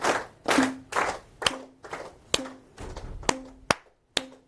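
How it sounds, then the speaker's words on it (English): A group of people clapping hands in a classroom-style exercise, sharp separate claps in uneven bursts with short pauses between them, close and clear with no talking. "I would like to do some clapping. So, I clap, you clap, okay?"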